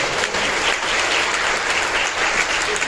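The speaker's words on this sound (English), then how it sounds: "Let's give Ryan actual like applause." A theater audience applauds after a film screening during a post-screening Q&A, producing loud, dense, sustained clapping that fills the room without letup.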